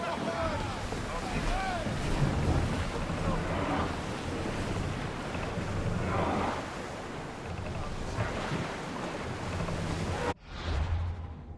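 A ship sailing on the open sea in the Assassin's Creed Odyssey video game, with continuous wind and rushing waves against the hull, steady and fairly loud before cutting off abruptly near the end.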